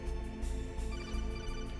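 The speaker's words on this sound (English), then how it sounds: "Oh, I'm getting a phone call." Codec call ringtone from Metal Gear Solid on original PS1 hardware, a steady electronic ringing with regular pulsing bursts repeating through the clip, fairly quiet and alone without talk.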